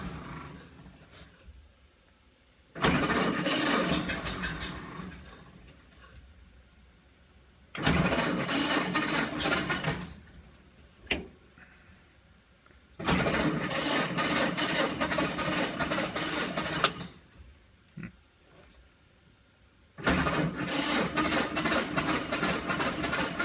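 A 1931 Ford Model A engine being cranked over repeatedly in bursts of several seconds each, separated by pauses, loud and close, with the engine seemingly not catching.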